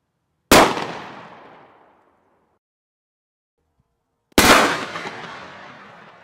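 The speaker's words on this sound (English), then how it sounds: "this is the same number 8 commercial birdshot. Now this is a full choke, pretty common sporting shotgun" A full-choke sporting shotgun loaded with number 8 commercial birdshot fires twice at 5 yards; each loud, sharp blast is followed by a decaying echo, with a few seconds of silence between shots.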